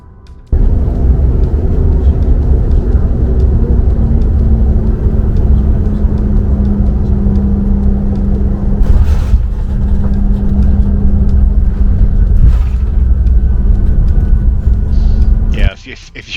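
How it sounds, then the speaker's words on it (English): Loud, steady cabin roar inside an American Airlines CRJ-700 regional jet in first class, flying from Reagan National to Myrtle Beach, with deep engine rumble running through the whole stretch, a few brief jolts and a drop-off near the end. "it was the absolute roughest landing I've experienced in a plane"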